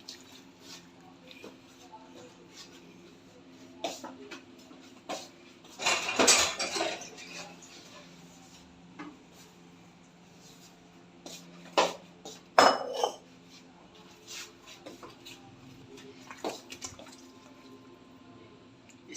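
Marinated chicken is tipped into a metal cooking pot in a home kitchen, bringing scattered clinks and scrapes of metal with two louder clattering bursts. Someone talks between them.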